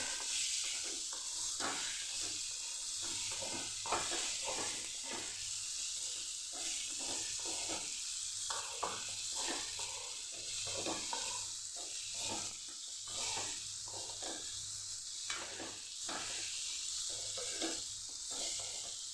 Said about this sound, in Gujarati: પહેલાં આપણે બટેકાને મસાલા સાથે સાતડી લઈશું